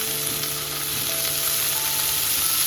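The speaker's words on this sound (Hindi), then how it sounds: "चॉप्ड गार्लिक डाल के गोल्डन ब्राउन तक सौटे करूँगी।" Chopped garlic and spinach sautéing in hot oil in a pan, a loud, steady, close hiss of sizzling that stays even throughout.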